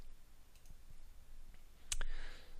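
Computer mouse click while saving settings, one sharp faint click heard alone against quiet room tone.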